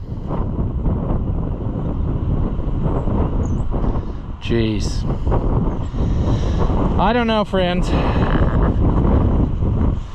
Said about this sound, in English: it's too windy to be out here and film anyway